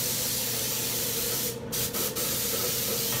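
An aerosol spray can sprays continuously onto a tumbler, a loud steady hiss with a few brief breaks in the middle, close up with no talking.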